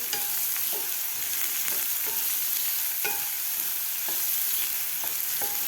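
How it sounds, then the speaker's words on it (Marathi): Onion sautés with green chili thecha in a pan for methi jhunka, a steady frying hiss throughout with occasional soft stirring clicks from a spoon. "कांदा सुद्धा आपल्याला दोन ते तीन मिनिट ह्या ठेच्याबरोबर व्यवस्थित परतून घ्यायचा आहे"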